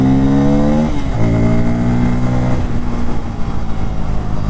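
Bajaj Pulsar N250 motorcycle engine revving up and down close by, steady harmonic drone rising and falling through a few throttle blips, loud and alone with no talking.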